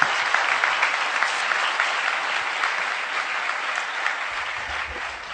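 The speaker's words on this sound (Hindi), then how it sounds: "इन तीनों के सम्मान में एक बार ताली बजा दीजिए" An audience at a comic poetry gathering for the Agrasen Jayanti celebration in Kaithal claps steadily in honour of the poets, a dense, even round of applause filling the hall throughout.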